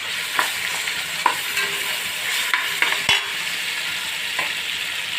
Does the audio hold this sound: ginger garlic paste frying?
yes